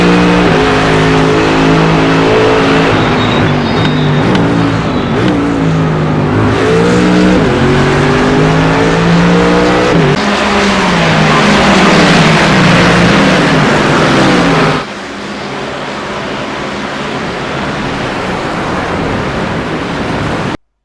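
Race car engines roar loud and close in an iRacing sim race, with the pitch climbing and dropping through gear shifts and several cars blending together. The sound drops sharply near the end.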